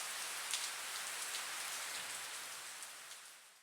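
Steady rain falls in a soft, even hiss with faint scattered drop ticks, holding at a constant low level before easing slightly toward the end.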